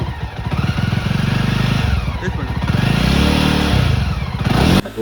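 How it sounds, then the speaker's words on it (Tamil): A Jawa motorcycle with a charging-system fault idles steadily after starting, a close, loud rhythmic thumping putter that rises briefly in pace and then settles. "வண்டி ஸ்டார்ட் ஆகிடுச்சு."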